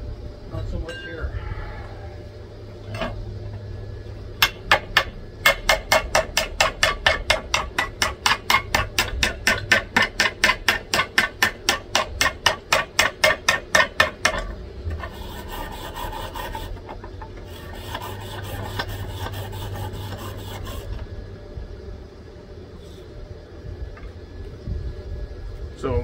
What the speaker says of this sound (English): I was told the slag on these are easy to pull off, but